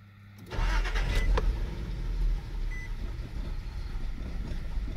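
A car engine cranks and catches, then settles into a loud, steady, rough-running rumble with no voices.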